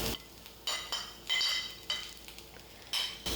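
Utensil scraping and stirring grated coconut through squid curry masala in a pan, a few quiet scrapes and clinks spaced across the moment with soft sizzle underneath.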